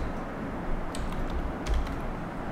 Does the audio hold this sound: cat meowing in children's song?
no